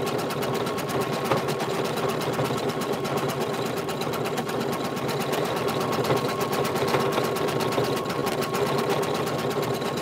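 Embroidery machine stitches a fabric appliqué patch, a fast, steady mechanical whirring and tapping that stays even and fairly close throughout, with no talking.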